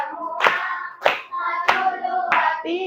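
Hands clap along with a children's finger-clapping counting song in Indonesian, four distinct claps at an even pace over a sung voice that continues throughout.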